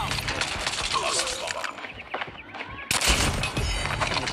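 Rapid bursts of gunfire from the Call of Duty Mobile first-person shooter game, dense and continuous with a sharp break near the end before firing resumes, loud and close throughout.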